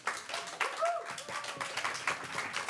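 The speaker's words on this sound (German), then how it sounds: "Einen ganz großen Applaus" Audience clapping at a university future festival in Germany, a lively patter of many hands with distinct sharp claps, while voices and a brief whoop or cheer sound over it.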